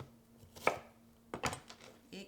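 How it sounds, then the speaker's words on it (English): Half of a small Vidalia onion being chopped with a knife on a cutting board; a few sharp separated chops, quiet and close, with silence between strokes. "Just a little bit of onion, about half of a small Vidalia. So this we're going to chop up."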